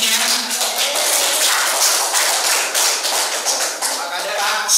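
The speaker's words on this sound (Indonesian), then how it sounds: "Berikan aplaus dong untuk MC-nya." Continuous applause from an event audience for the master of ceremonies, a dense, even patter of many hands clapping at a steady loudness throughout.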